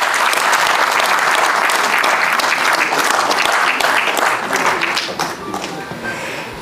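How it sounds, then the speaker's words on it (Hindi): Applause from the audience at a theatre workshop gathering, a dense, steady wash of many clapping hands that holds loud and then thins slightly toward the end. "मोहम्मद अमीन भट्ट साहब के लिए एक और बार जोरदार तालियां।"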